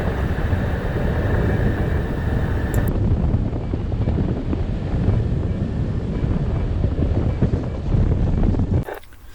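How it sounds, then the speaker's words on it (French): Strong wind roars steadily across the microphone during a bike ride in the Bauges near Chambéry, a loud continuous buffeting that cuts off abruptly at the end. "le vent est bien présent, la brise de Chambéry est bien établie"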